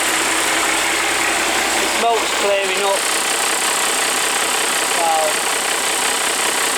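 A car engine idles steadily after an electrical wiring repair, a loud, constant mid-pitched hum and vibration close by, while someone talks briefly over it.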